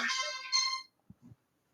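A Motorola mobile phone ringtone, a short bright melodic chime close by, then quiet with a few faint knocks after it.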